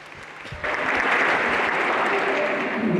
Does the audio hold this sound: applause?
yes